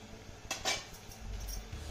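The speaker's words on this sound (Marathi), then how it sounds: "यावरचं झाकण काढूया." A lid comes off a pot of steamed potatoes with a brief metallic clink and scrape near the middle, followed by a soft low rumble; quiet and close, with no talking.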